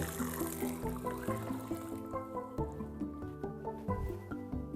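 Eight cups of boiling water pour into a pot holding a burger mixture, giving a close, quiet stream of trickling, dripping and squishing liquid with no talking.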